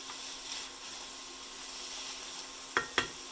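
Peppers sizzling in a hot pan for shakshuka, a soft, even frying hiss heard alone, ending with two quick scraping clicks of a stirring utensil.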